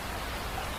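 Dense, steady hiss of heavy rain pouring down, a continuous wash of noise with no voices.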